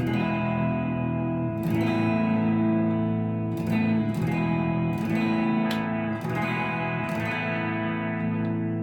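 Overdriven electric guitar through a Kemper Match Avenge amp profile, playing sustained, distorted chords with a thick harmonic tone, several new strums ringing out over the held notes.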